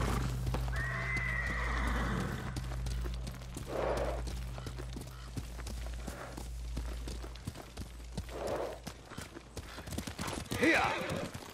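Horses in the Ghost of Tsushima game whinny and snort loudly as hooves clip-clop steadily along, with a second neigh near the end over a low rumbling background.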